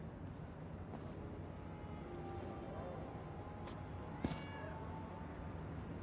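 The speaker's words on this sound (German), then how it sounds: "Da ist eine Katze." A cat meows a few times in Indiana Jones and the Great Circle, short calls over a steady game ambience with a sharp thud midway and faint talk.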